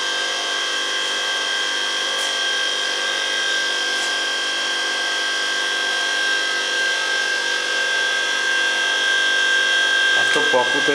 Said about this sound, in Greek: Αυτό που ακούτε είναι το κομπρεσεράκι